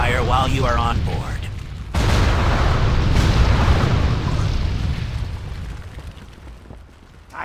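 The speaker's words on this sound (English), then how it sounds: "I'll try to hold off the cannon fire while you are on board" Heavy booming cannon fire from a ship in World of Warcraft: a sudden loud blast rumbles on continuously for several seconds, low and dense, with game voice chatter just before it.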